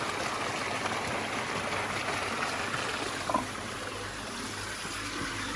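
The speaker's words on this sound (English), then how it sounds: "So this is the big filter system here for the water for our village." Water runs steadily through a large village water filter system in rural Thailand, a continuous near trickle and splash with one small knock partway through.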